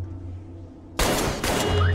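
Gunfire erupts suddenly in the VR game Arktika.1 as rats are shot, a loud burst of rapid shots after a quiet humming lead-in, with a brief second volley.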